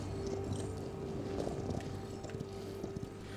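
Horse hooves in the Paladins video game clip-clop in a quiet, steady rhythm against a constant low background hum, fairly faint and unhurried.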